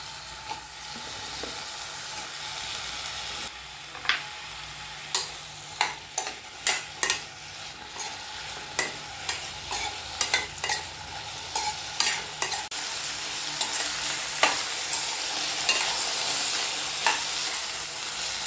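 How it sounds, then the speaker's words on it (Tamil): Cut brinjal frying in oil in a pan, a constant sizzle punctuated by a regular run of sharp spatula knocks and scrapes against the pan, close and clear. "இப்போ நம்ம கட் பண்ணி வச்சுருக்க கத்திரிக்காயெலாம் இந்த எண்ணெயில் போட்டு ஃப்ரை பண்ணிக்கலாம்"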